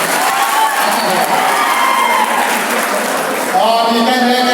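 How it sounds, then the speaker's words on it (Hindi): Loud, dense applause and crowd cheering from a school audience at an Independence Day prize distribution, sustained throughout with voices mixed in and a brief swell near the end. "लेकिन जोरदार तालियां।"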